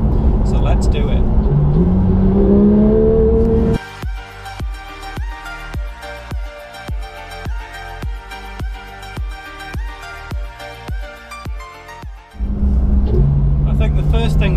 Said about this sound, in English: this incredible engine. You know, it really does pile on the revs so fast